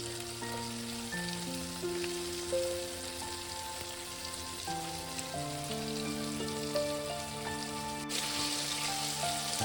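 Spicy crispy chicken wings fry steadily in hot oil with a continuous soft sizzle and crackle, held at an even level under a layer of background music.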